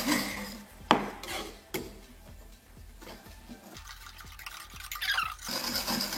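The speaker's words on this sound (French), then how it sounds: "Et on remue encore." A spoon stirs vegetable-cream cheesecake batter in a bowl for a pressure-cooker cheese tart, giving soft repeated scraping and tapping strokes against the bowl, close and fairly quiet, with no talking.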